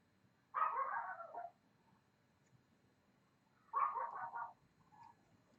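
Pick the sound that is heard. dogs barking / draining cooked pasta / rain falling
dogs barking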